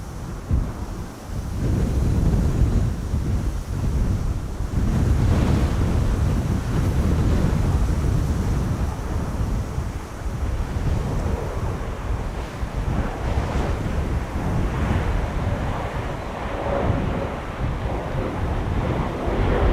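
Strong, steady wind of about 20 knots gusting to 30 buffets the microphone at Schiphol Airport with a constant low roar, gusting slightly louder at times, with no voices.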